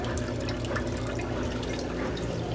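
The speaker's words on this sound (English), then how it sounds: "So the pump is still pumping." A Kuppet twin tub portable mini washing machine's pump drains water in a continuous, even rush and gurgle, steady and fairly quiet with no talking.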